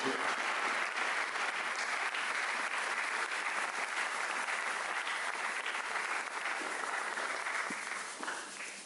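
A church congregation applauds steadily at a French-language Sunday service, dense clapping sustained throughout and tapering off slightly at the end.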